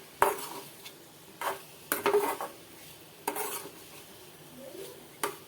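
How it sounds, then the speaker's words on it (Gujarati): Boiled potatoes stirred and crushed in a pan for Gujarati sukhi bhaji: a metal spoon scrapes and clinks against the pan in scattered strokes over a soft, steady sizzle, close up and without voices. "તો બટેટાને આપણે સારી રીતે મિક્સ કરી દીધા છે।"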